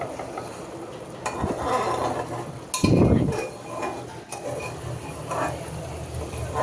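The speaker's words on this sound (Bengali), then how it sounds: "কলিজা আলু একসাথে ভুনা করে নিচ্ছে" Liver and potatoes are sautéed together in an opened pressure cooker pot. Close metal spoon scrapes and clinks come in uneven strokes over a soft background sizzle, with one louder clattering stir midway.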